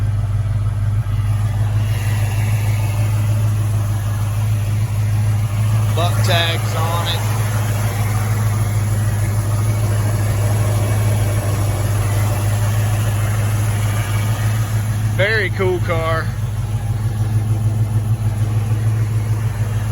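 A 1969 Ford Mustang Mach 1 survivor with its original 351 V8 idles steadily with a low, even rumble and a faint power steering pump whine. Someone speaks briefly over the engine.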